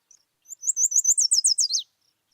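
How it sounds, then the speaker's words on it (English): A yellow warbler sings one short, bright song alone: a quick run of clear, high chirpy notes that speeds up and ends in a downward flourish, close and fairly loud against silence. "This bird, like all warblers, has this beautiful chirpy musical sound"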